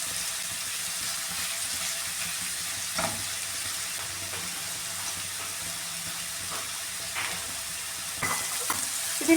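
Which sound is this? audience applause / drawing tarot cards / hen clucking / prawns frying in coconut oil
prawns frying in coconut oil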